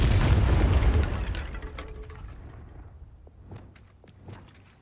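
A booming Confringo blasting-spell explosion from Hogwarts Legacy hits at the start, then rumbles and fades over a few seconds while scattered smaller pops and cracks follow.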